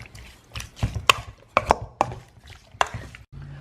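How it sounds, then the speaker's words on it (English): A spoon mixes pork chili ingredients in a bowl, giving a close, irregular series of sharp knocks and clacks separated by short quiet gaps. "Mix everything up."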